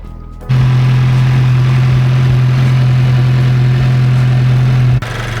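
Volkswagen MK7 GTI turbo engine idling with a turbo blanket fitted, a loud, steady low hum that starts abruptly, holds evenly close-up for several seconds, then cuts off near the end.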